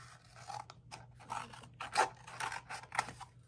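Scissors cut through a thin aluminium pop can, giving a series of scratchy, rasping snips in an uneven rhythm, close and fairly quiet over a low steady hum.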